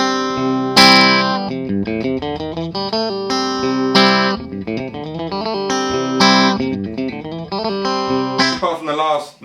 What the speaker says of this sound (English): picking open strings, clean, no distortion to hide behind